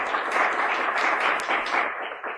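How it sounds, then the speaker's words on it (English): An audience at a conference talk on smart city security applauds with dense, sustained clapping that fills the room evenly and fades slightly at the end. "Please, applause again the whole audience."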